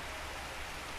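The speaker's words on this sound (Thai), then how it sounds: "ฝนตกหนักมาก" Heavy rain pouring down at a garden house, a dense, continuous hiss of downpour that is steady and loud throughout, with no voices.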